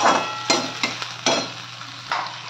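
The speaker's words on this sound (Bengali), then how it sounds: "আদা রসুনটা একটু ভাজা হয়ে গেলে অল্প করে দেবো লঙ্কা গুঁড়ো" Ginger and garlic fry in a pan for egg tadka, a soft steady sizzle punctuated by several sharp scraping stirs of a spoon against the pan.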